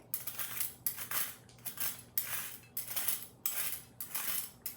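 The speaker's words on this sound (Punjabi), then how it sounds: "ਇਸੇ ਤਰ੍ਹਾਂ ਹੀ ਆਪਾਂ ਆਪਣੇ ਸਾਰੇ ਕਰੇਲੇ ਜਿਹੜੇ ਛਿਲ ਲੈਣੇ ਹੈਗੇ ਆ" A knife scrapes the skin off fresh bitter gourds (karela) for pickle in close, rhythmic strokes, about seven or eight raspy passes in a steady back-and-forth pattern with no talking.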